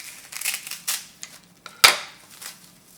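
Scissors snip through folded sheets of dried seaweed (gim) on a kitchen counter, making several crisp, close crackling cuts, with one loud sharp snip near the end.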